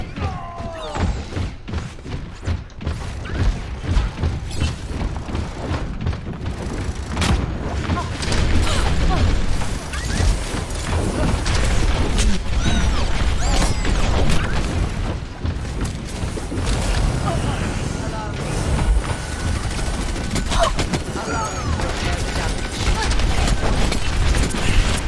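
Gunfire and explosions in the video game Overwatch, a dense, continuous barrage of shots, booms and impacts that runs loudly and without a break.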